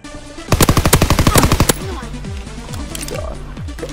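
A fast, loud burst of automatic gunfire, around a dozen rapid shots lasting about a second, rings out in a World War II shooter game, followed by quieter game sounds.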